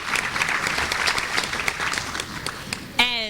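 An audience at a district teachers' awards ceremony applauds a school arts coordinator, a broad wash of steady clapping that carries throughout before a voice cuts in at the very end.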